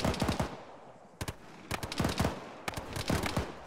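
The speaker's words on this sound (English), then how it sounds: "I can't see that shot, it's coming from behind the building" Bursts of rapid automatic gunfire in the military video game Arma, loud close volleys broken by short pauses, with no voices.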